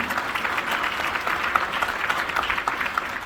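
A theater audience applauds a church dance group at a variety show, a moderately loud mass of claps with a few sharper individual claps standing out near the end.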